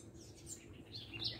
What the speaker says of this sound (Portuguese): Cada passarinho desse cantando.